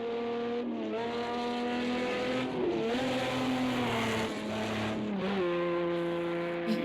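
A race car in the Project Cars 2 video game slides sideways under oversteer, its engine a steady loud drone whose pitch bends and dips as the car slides, with tire noise underneath.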